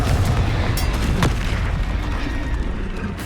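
Confringo fire spell explosions in Hogwarts Legacy, loud booming blasts with a sharp crack near the middle, dense and continuous over game noise.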